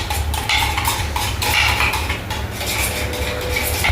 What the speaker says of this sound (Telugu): ఇప్పుడైతే ఈ స్పూన్ ఉంది కదా, మనము ఇలా అయితే మిక్సింగ్ చేసుకోవాలి గైస్.